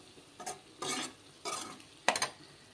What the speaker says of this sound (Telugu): పచ్చివాసన పోయేంత వరకు మనం దీన్ని ఫ్రై చేసుకుందాం